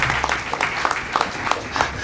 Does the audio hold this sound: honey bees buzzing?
no